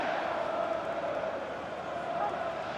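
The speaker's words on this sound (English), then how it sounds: "Well, just listen to this crowd." Stadium crowd noise from a football match in EA Sports FC 24, a steady dense roar of many voices that holds level throughout with no clear peaks or individual shouts.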